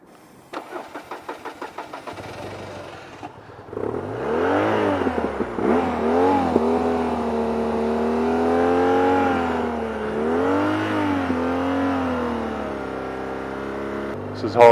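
A struggling motorcycle engine sputters, catches and roars, then is held at high revs with uneven surges, loud and close.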